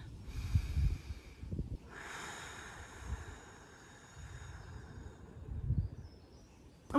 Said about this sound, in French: Inspire et expire, concentre-toi sur la fin de l'expire